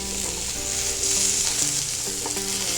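Shrimp sizzle steadily in a Gotham Steel pan, a loud, continuous frying hiss with a few faint clinks and stirring scrapes, no voices.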